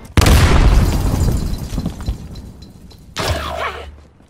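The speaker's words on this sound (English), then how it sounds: "Grenade!" A grenade detonates in the Modern Warfare video game: one loud, close boom with a crashing burst that decays over about three seconds, then a second, sharper blast follows.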